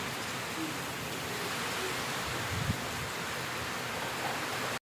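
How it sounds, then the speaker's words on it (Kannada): A steady, dense hiss of heavy rain pours down without a break, broadband and continuous, with a faint low thump partway through. "ಮಳೆ ನೋಡಿ ಎಷ್ಟು ಜೋರಾಗಿ ಹೋಯ್ತಾಯಿತ್ತು"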